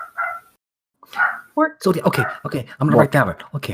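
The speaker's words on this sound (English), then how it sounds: "That's a dog." A dog barks and yips in short bursts, close and fairly loud, mixed in with a person talking.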